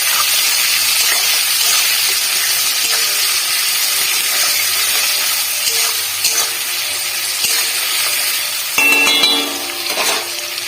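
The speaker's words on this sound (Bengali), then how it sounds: "পেঁয়াজটা ভাজা হয়েই গেছে প্রায়।" Onions salted and frying in a pan, a steady loud hiss of sizzling oil close up, with a few light clinks of a utensil near the end, no talking.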